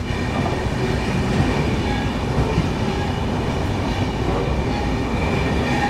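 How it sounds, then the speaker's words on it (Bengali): A Kanchankanya Express train rolling into Siliguri Junction, a steady, dense rumble of wheels and carriages heard from on board, continuous and fairly loud with no voices. "নির্দিষ্ট সময় থেকে 20 মিনিট বিফোর আমাদের ট্রেন এসে পৌঁছালো শিলিগুড়ি জাংশন।"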